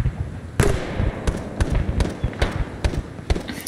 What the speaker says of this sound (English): We're getting shot at southeast